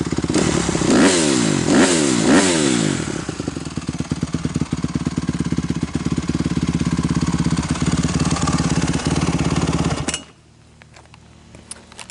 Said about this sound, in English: this bike is a lot louder